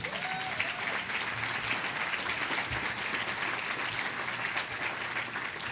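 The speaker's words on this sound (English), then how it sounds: "And now you can applaud them all" Audience at a regional chamber of commerce fall breakfast applauding local town officials, a sustained even round of clapping from a room of people, moderately distant, with no talk over it.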